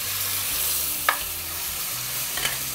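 A thick block of supermarket steak sears in a hot pan just after being flipped, giving a steady close sizzle with a couple of brief sharper spits and pops.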